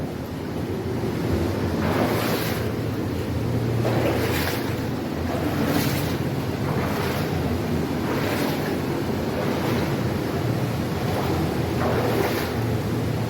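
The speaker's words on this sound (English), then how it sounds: "Underground waterfall, eh?" An underground waterfall in a cave roars in a loud, continuous rush of falling water, with broad surges recurring every couple of seconds and no voices.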